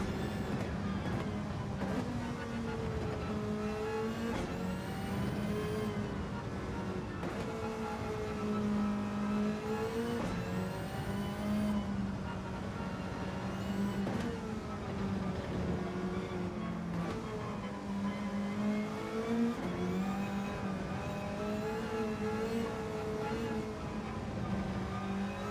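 Porsche RSR race car engine from a racing game, a steady loud drone with rising and falling pitch sweeps as it revs through gears, continuous for the whole stretch with no pauses.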